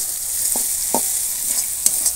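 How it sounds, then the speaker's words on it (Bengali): Chopped onion and crushed garlic fry together in a pan with a constant bright sizzle, broken by a few soft scraping stirs of a spoon. "রসুন আর পেঁয়াজ সব একসঙ্গেই ভাজা হবে।"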